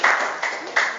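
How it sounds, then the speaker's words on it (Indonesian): Brief clapping from a classroom of students for two classmates, a short burst of several hands in quick uneven bursts, fairly close and with a voice speaking alongside. "Kita berikan tepuk tangan kepada Fitri dan Wika."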